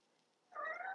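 A single short, faint meow from a cat, brief and tonal, rising out of near silence.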